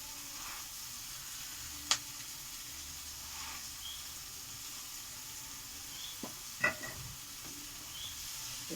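Leafy greens (shak) fry in a pan alongside fish roe, giving a soft, steady sizzle with a few sharper pops and clinks of stirring, fairly quiet and without talk.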